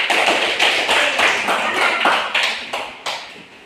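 Classroom students applauding together, a brisk run of loud, close handclaps with rhythmic bursts lasting several seconds before fading slightly.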